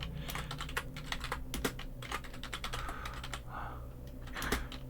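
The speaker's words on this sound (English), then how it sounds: "If you see me typing like an idiot" Fast, continuous typing on a computer keyboard as commands are entered into an AI text roguelike game. The dense, uneven clatter of close keystrokes runs steadily throughout with no talk.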